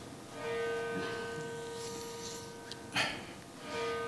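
Church bells ring with sustained, overlapping tones that hang steadily over the whole stretch, with a brief sharp knock near the end and no voices.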